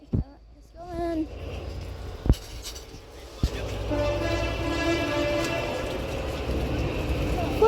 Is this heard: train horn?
yes